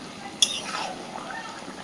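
A spoon stirs bottle gourd curry cooked with fish head in a pan, with one sharp clink against the metal followed by soft scraping and a faint simmering sizzle.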